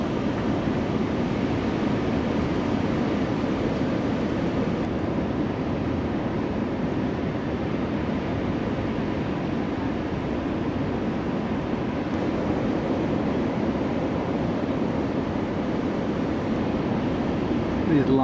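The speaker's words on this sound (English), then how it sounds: "to see these size waves roll through and to have somebody on them, even with a jet ski, really shows the pure size that these waves were" Huge ocean waves rolling in off Los Angeles, a continuous loud roar of breaking surf and churning water with wind buffeting the microphone throughout.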